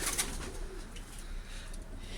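A pigeon coos softly nearby, low murmuring calls over faint background noise.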